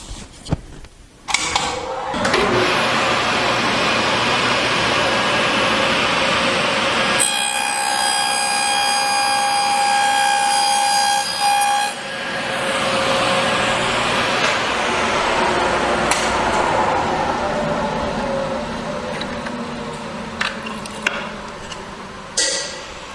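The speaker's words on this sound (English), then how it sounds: "So now we will run this rabbet" A power tool cuts a rabbet in wood with a sustained loud roar and rasp running through the whole stretch, shifting pitch midway as the cut progresses, close up.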